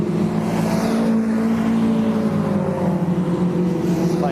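A 750 Motor Club race car runs on the track at Mallory Park, a steady droning engine note held at moderate distance without voices.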